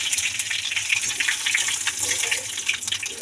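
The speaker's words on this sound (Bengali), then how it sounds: "তেল গরম হয়ে গেছে, এবার ফোড়নে যা যা যাবে দিয়ে দেবো। দুটো শুকনো লঙ্কা, একটা দারচিনি, একটা লবঙ্গ, লং আর দুটো তেজপাতা আর অল্প জিরে।" Whole spices hiss and crackle in hot oil: two dried red chillies, a cinnamon stick, a clove and two bay leaves with a little cumin, giving a steady, close, bright sizzle with no talk.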